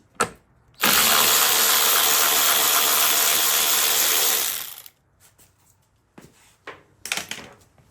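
An 8 mm socket works on a motorcycle seat bracket: a loud, close, continuous mechanical whirring lasts several seconds, then stops, followed by faint clicks and handling noises.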